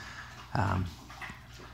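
A dog gives one short yelp or whine-like bark close by indoors, a brief burst lasting about a quarter second amid quiet room tone.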